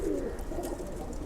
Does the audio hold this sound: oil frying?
no